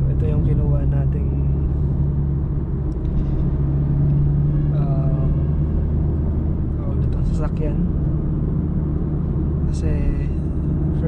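A Honda City 2021 with manual transmission drives along with a steady low engine and road rumble inside the cabin, while a person talks over it throughout.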